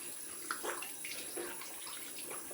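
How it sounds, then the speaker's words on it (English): Tap water running steadily into a basin for a cold rinse after a shave with a Gillette Superspeed Red Tip razor, a soft, even flow with faint splashing, heard alone at low level. "Rinse off cold water."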